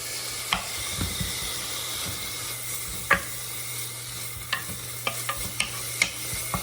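Bacon renders in a single layer in a pan, giving a steady close hiss of frying fat with scattered sharp pops and crackles and no voices.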